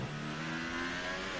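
A Red Bull Formula 1 car in F1 2018 revs hard during a hot lap at Bahrain, its high engine whine loud, close and unbroken as it accelerates, with no talk over it.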